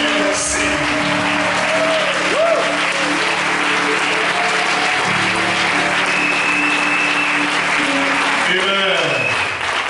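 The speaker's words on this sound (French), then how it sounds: "Célébrons l'Éternel par des acclamations." Congregation applauding in a church worship service, loud continuous clapping and acclamation from a full room, sustained instrumental tones holding underneath the whole time.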